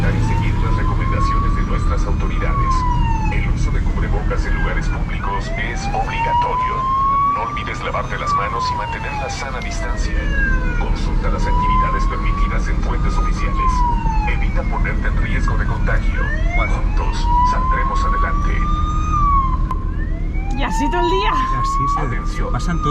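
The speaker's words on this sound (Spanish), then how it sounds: "Porque de lejos solo se escucha la alarma, no la voz del señor, que tienes que estar cerca." Police-style alarm siren from a public loudspeaker in Quintana Roo, Mexico, rising and falling in repeated wails over constant low rumble, moderately distant and continuous throughout.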